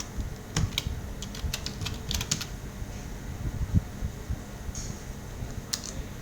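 Typing on a computer keyboard: irregular bursts of close, light key clicks over a low hum of room noise, with no talk.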